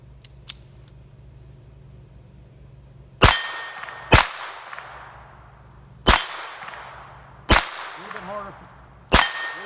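An Astra Firecat .25 ACP pocket pistol, also called the Model 200, fires five sharp, loud shots at irregular intervals outdoors, each with a brief ringing decay, after two small faint clicks at the start.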